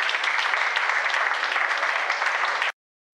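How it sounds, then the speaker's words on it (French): Applause for a seamstress at an open-house event, a steady crowd of hands clapping at an even level for nearly three seconds before stopping abruptly into silence. "Acclamons, acclamons, acclamons."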